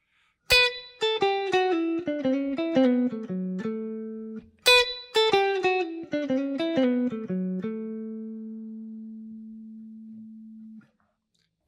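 A slow blues lick on guitar: two phrases of clearly plucked single notes stepping downward, the second ending on a long sustained note that rings for several seconds before fading to silence.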